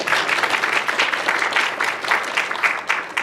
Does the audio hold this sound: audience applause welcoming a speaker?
yes